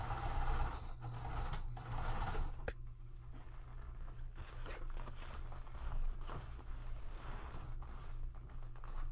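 A sewing machine stitches a fabric shoulder bag, a faint steady whirring hum with soft mechanical clicks and brief pauses as the fabric is shifted.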